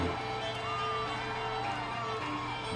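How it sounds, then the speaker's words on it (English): A large arena crowd cheers and roars continuously through the winning Norway performance at Eurovision 2009, a steady wash of voices with whoops and a sung melody carrying above it. "listen to that crowd cheer"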